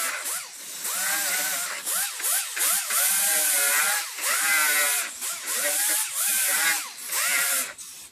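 A handheld power tool deburrs metal edges, whining and wavering up and down in pitch as the tool is pressed on and eased off, close and continuous.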